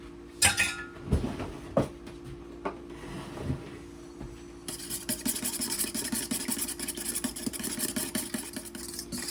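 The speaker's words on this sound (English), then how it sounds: "I'm going to whisk all of this together." Cornbread batter with cooking oil being whisked in a bowl, a quick rhythmic scraping and clicking that settles into steady fast strokes after a few slower knocks, close and fairly quiet under a low background hum.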